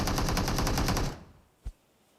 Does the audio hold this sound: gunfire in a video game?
yes